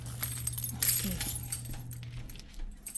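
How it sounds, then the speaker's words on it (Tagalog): Keys jangle near at hand in a cold house abroad, a few loose metallic rattles over a low steady hum and background noise. "kunin natin yung susi"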